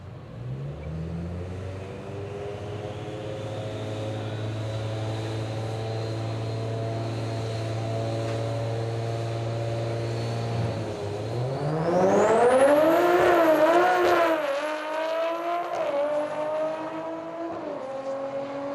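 A street-racing car passes close by, its engine tone held steady, then rising sharply as it accelerates and revs away, loud and alone with no talk.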